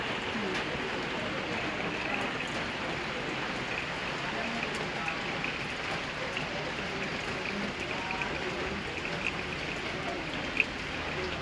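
Steady rain falling after a hot spell, a constant soft patter and hiss that stays even and moderately faint throughout, with one small sharp drip or tap near the end.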